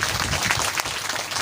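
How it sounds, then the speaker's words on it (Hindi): Audience applause from a crowd at a Hindu religious discourse, a dense, even burst of many hands clapping at close range with no break throughout. "बजाइए ताली जोरदार।"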